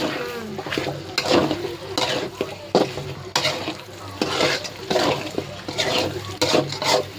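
Chicken cooking with masala spices in a pan, stirred and fried with a steady sizzle, scraping and repeated stirring strokes, near and fairly loud.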